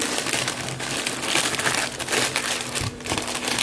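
Butter paper crinkles and rustles continuously at close range while food for a potluck is wrapped in it, with a few sharper crackles along the way and no speech.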